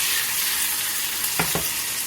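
Onion frying in a pan for a fish kulambu, a steady broadband sizzle with two brief louder bursts of stirring or spattering near the end, close and continuous with no talking.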